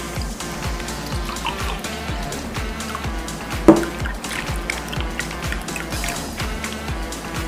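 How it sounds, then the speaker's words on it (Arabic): Milk pours into a bowl for a chocolate biscuit cake cream, a continuous liquid trickle broken by quick, regular drip-like splashes, with one sharper splash partway through and no talking. "احنا حطينا 3 كوبايات لبن بتوعنا"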